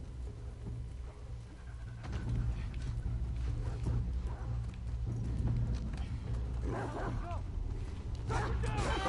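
Dog barking in The Last of Us Part II gameplay, mixed with game sound and a steady low hum, with a few sharper yelps and stirrings toward the end and speech running throughout.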